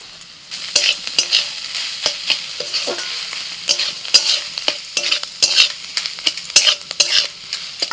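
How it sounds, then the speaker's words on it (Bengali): Paneer filling with vegetables is stirred in a hot pan with a little sugar added, giving a continuous bright sizzle broken by frequent scraping clicks and knocks of the spatula, close up and with no voices. "কিছুক্ষণ পনিরটা নাড়াচাড়া করে নিয়ে সবজির সাথে অল্প করে একটু চিনি দিয়ে দিচ্ছি"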